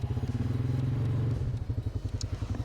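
A 2017 Polaris Sportsman 570SP ATV engine runs close by, holding a steady drone while riding, then shifting to a rapid pulsing putter as the throttle eases.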